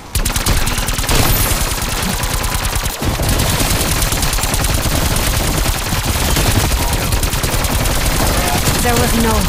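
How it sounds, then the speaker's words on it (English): An auto turret fires continuously in Call of Duty Black Ops Cold War Zombies, a loud, dense rattle of rapid automatic gunfire with no break over several seconds. "That auto turret was built to suppress riots and escape attempts. It will tear through you in seconds."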